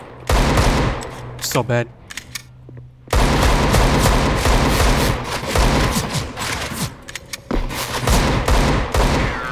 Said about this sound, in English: How many bullets do you need to shoot at me, bro?